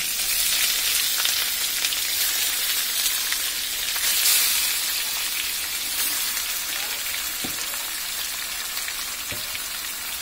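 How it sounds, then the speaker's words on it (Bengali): Broiler chicken pieces frying in a pan, a steady dense sizzle and crackle running throughout with a few faint clinks, no talking. "হালকা একটু ভেজে নেব।"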